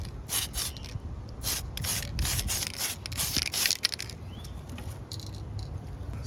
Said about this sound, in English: I get some alcohol microfiber. Just wipe it down one last time in case I touched it.